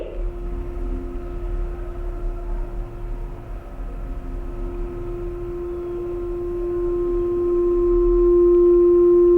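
A loud 350 Hz sine tone resonates inside a PVC pipe, a steady pure hum with faint overtones that swells in volume toward the end as the resonance builds, with no talking.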